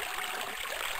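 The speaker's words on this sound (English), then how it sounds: "I can actually drink a little here. Even if it is toilet water, who cares?" Water trickles and gurgles steadily from a toilet as Duke Nukem drinks from it in Duke Nukem 3D, a brief continuous watery wash with no talk.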